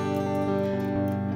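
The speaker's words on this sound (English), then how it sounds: "So that's the sound of my guitar on bypass mode." Electric guitar played through a Digitech RP55 effects pedal set to bypass, giving a clean, sustained, ringing tone heard close and steady for a short moment.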